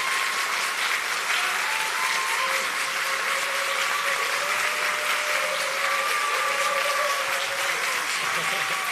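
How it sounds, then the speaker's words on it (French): An audience at a startup pitch competition applauds as a public vote for the startup Kimi, loud continuous clapping with some voices mixed in throughout. "on applaudit."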